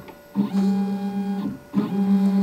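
A ShopBot Desktop CNC router running after a control board and driver replacement. Its stepper motors whine in two loud tonal bursts as the gantry moves along the X and Y axes, with a short pause between the moves.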